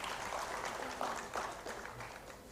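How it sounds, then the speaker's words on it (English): Conference audience applauding Dr. Rajendra Singh at a concluding plenary session, a steady wash of clapping from a large hall that holds evenly throughout, with no voices over it. "Huge round of applause for Dr. Rajendra."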